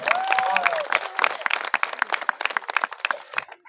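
Audience applause at a comic poetry recital during the Shivrinarayan festival: a thin, scattered patter of claps that stays fairly modest, with a voice briefly heard over the start.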